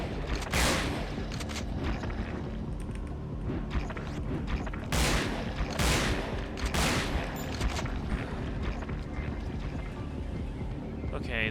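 Gunfire in the Resident Evil Dead Aim video game: several sharp shot bursts ring out over a constant game background hum, with rumbling and mechanical effects between them and no talking.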